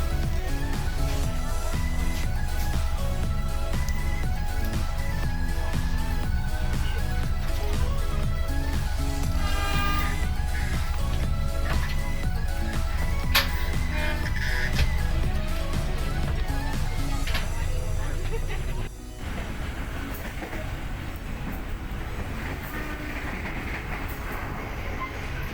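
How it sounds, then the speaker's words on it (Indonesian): The Serayu passenger train rumbles steadily along the rails leaving Bekasi station at high speed, with a continuous heavy roar and rhythmic clatter, loud and close, easing slightly near the end. "kereta api Serayu dengan nomor 284 pun meluncur kembali"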